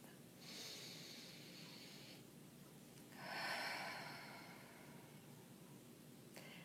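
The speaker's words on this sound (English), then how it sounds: "Deep breath." Two slow, long breaths are drawn close and soft against a quiet background, one in and one out, during a calm guided meditation, followed by a brief click.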